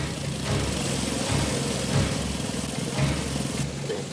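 A sand crawler vehicle from the Bravestarr cartoon rumbles with a steady, low, droning engine note that runs continuously and fairly loud, with slight swells in intensity.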